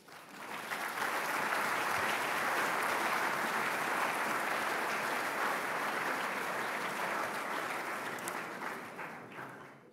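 Sustained applause from a conference audience at the Rencontres économiques d'Aix-en-Provence, a dense, steady wash of many hands clapping that swells in quickly, holds loud and even for several seconds, then tapers off near the end with no talk over it.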